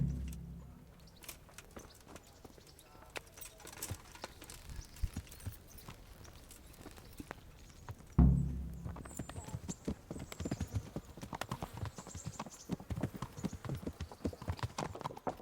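Horse hooves clip-clopping at a steady riding gait in the medieval game Kingdom Come: Deliverance, continuous and fairly close, with a loud thump near the middle and game sounds alongside.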